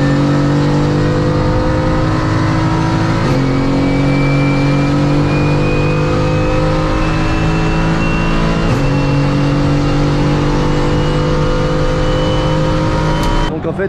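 Mercedes AMG GT race car engine in a racing video game, a loud sustained high-revving drone that climbs in pitch and drops sharply twice at gear changes, with no voices.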